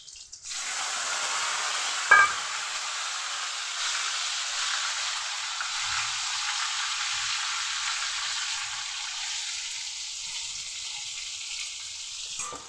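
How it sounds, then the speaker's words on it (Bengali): Boiled cauliflower and potato hit a hot pan and fry slowly, giving a steady, close sizzle with one sharp clink early on and a few faint knocks later. "ফুলকপি আলু বয়লিং করার পরে দিয়ে নিচ্ছি। তারপর আমরা আস্তে আস্তে ভেজে নিব।"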